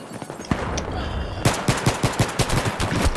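Rapid automatic gunfire in the video game Battlefield 3, a steady rhythmic burst of close, loud shots following a few scattered single rounds.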